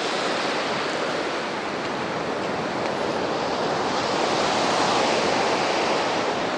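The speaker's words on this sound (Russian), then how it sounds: "Море сегодня замечательное." Sea waves at Anapa roll in and break on a dune-lined shore in a continuous loud wash of surf, with some wind noise on the microphone and no talk.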